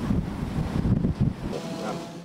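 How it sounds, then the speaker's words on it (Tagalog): Strong storm wind and rain in Pasay City, heard as a loud rushing, buffeting roar with gusts battering the microphone, continuous and close. "Dama rin ang lakas ng ulan at hangin sa Pasay City."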